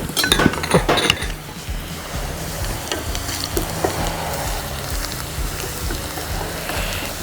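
Ground ginger and coconut paste fries in a pan for a Kerala-style Onam ginger curry, a loud continuous sizzle with stirring scrapes and clinks up close, no speech.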